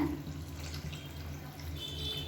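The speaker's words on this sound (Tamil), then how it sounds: "ஒரு 3/4 லிட்டர் அளவுக்கு தண்ணி சேர்த்துருக்கேன்." Hot water pours steadily into a pot of chicken kuzhambu curry, a faint, continuous splashing stream with no talking.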